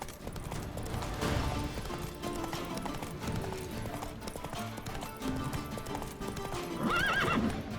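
Roach the horse galloping in The Witcher 3, with steady clip-clopping hooves throughout, closing on a clear loud neigh near the end, over a soft game background with no voices.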